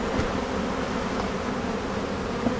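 Honey bees buzz steadily around an open beehive during an inspection, a dense close droning hum with small shifts as individual bees pass near.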